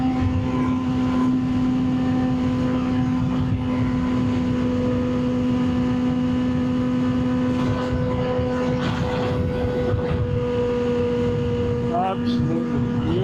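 A Kawasaki Ninja H2 motorcycle engine hums in a steady high-pitched drone while riding, holding one tone before a quick rev shift near the end, with wind noise underneath.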